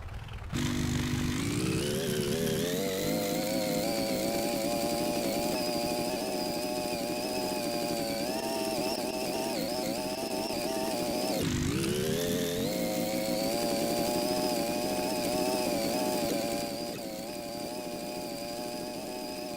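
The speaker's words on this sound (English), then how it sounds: "Just the way the engine sounds kind of gives it the, like, clack of tracks as well." Tank engine with tracks in the video game Gearblocks: a loud, continuous droning motor with a buzzing, clattering edge revs steadily, briefly dips, then climbs again, with no talk.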